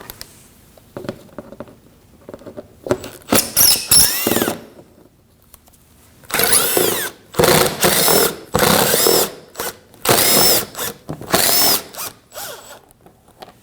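A power tool drives out 5.5mm screws from the grille mounting area of a 2015-2024 Ford Edge, heard as close, loud bursts of whirring and ratcheting, each lasting about a second, with short pauses between them.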